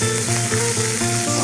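Lean pork stir-frying in lard in a wok, a loud, dense close-up sizzle with quick rhythmic stirring pulses, heard alone without any voices.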